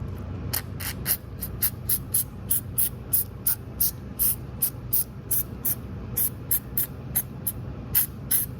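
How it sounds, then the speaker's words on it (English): WD-40 is sprayed onto the spring and moving mechanisms of an exterior door hinge in a rapid series of about twenty short, sharp aerosol bursts, close and fairly quiet, with a low steady background hum. "And I'm just going to spray WD-40"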